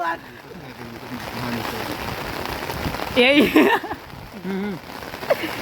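Rain patters steadily on an umbrella outdoors during a rainy-day birthday outing, a continuous wash of drops with people talking loudly over it partway through.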